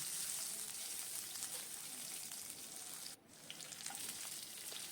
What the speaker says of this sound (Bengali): দু চামচ তেল কড়াইতে দিয়ে দিলাম আর কালো জিরে ফোড়ন দিলাম আর আলুগুলো লম্বা লম্বা করে কেটে রেখেছিলাম আলুগুলো দিয়ে দিলাম